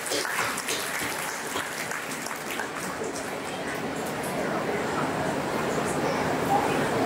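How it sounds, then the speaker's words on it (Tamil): Audience applause at a school Independence Day award ceremony fills the space with steady, dense clapping, continuing evenly from start to finish. "அவர்களுக்கு கரகோஷம் கொடுத்து நான் உட்கார்ந்திருக்கேன்"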